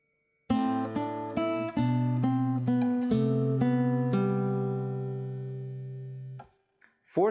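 Guitar plays the third measure of Jesu, Joy of Man's Desiring, a flowing run of about a dozen plucked notes over a ringing bass, close and clean, ending in a brief handling noise.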